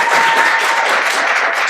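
At a children's Christmas party, an audience claps loudly for a child, a dense, even roar of applause that fills the room for under two seconds.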